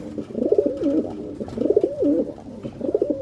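Pigeons coo close by in three rhythmic, throaty bursts, each a rolling series of soft warbling notes separated by short pauses.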